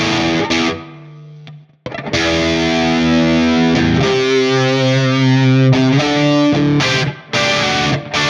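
Electric guitar run through a ToneX pedal with a chorus effect, playing distorted, shimmering sustained chords with a few brief gaps and restrikes, loud and close throughout.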